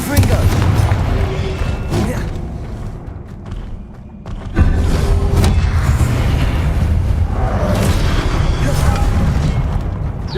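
Confringo fire-blast spells from Hogwarts Legacy go off in loud, rumbling booms, one after another, with a short quieter lull in the middle before the dense blasting resumes.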